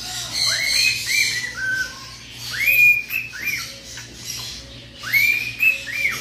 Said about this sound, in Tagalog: kakatail na sumisipol sa awit, galing sa himig, ng isang tunog